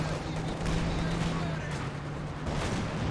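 Katyusha rocket barrage in Company of Heroes 2, a dense, continuous roar of rumbling launches and impacts that fills the whole stretch at steady loudness, with a voice talking underneath.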